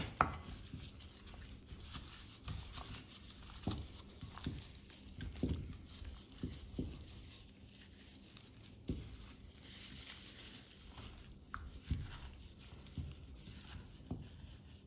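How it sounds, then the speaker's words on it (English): Seasoned oxtail gets mixed together by hand in a bowl, soft wet squelches and irregular thumps coming in uneven bursts, quiet and close, with no talk. "Now we're gonna just mix everything together"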